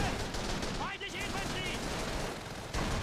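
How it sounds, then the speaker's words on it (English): Gunfire in the war shooter Call of Duty 3 crackles as continuous rifle and machine-gun volleys with distant booms, a busy battlefield din lasting the whole stretch, while a voice speaks over it. "Where am I getting shot from?"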